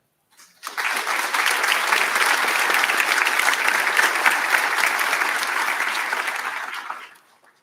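Audience applause at a senior awards ceremony, rising quickly from silence into a sustained, dense round of clapping from a large crowd that holds steady for several seconds before fading out.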